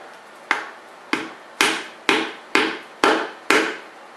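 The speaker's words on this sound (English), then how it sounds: "I like to take a hammer and knock it in a little bit" Seven sharp hammer knocks on a wooden end grain cutting board, evenly spaced about half a second apart, close and loud with short ringing decays.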